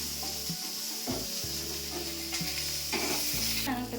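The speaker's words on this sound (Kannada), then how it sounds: "ಈಗ ಎಲ್ಲ ಮೆಣಸಿನ್ಕಾಯಿ ಹಾಕ್ತಾಯಿದ್ದೀನಿ ಆ್ಯಂಡ್ ಗಾರ್ಲಿಕ್." Green chillies and garlic frying in a hot pan for a chutney, a steady close sizzle broken by several stirring scrapes, with no talking.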